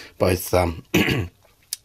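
Someone clears their throat close by, three rough, gravelly rasps in quick succession followed by a short sharp sniff.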